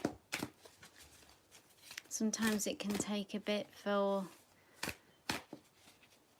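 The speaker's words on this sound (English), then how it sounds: "Give the cards a shuffle whilst we're waiting." Tarot cards are shuffled by hand in a quiet room, giving a few soft riffling rustles and brief papery bursts between stretches of a woman's speech.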